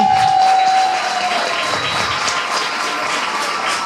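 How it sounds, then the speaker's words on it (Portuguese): An audience at a school's 15th anniversary applauds a teacher, a loud, even roll of clapping that stays full and steady throughout. "Forte aplauso para a Frau Karin"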